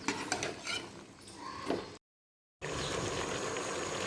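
Aloo gobhi curry being roasted and stirred on a high flame, a moderately quiet sizzle with scraping spoon strokes, cut off by a brief moment of silence before a steady frying hiss resumes.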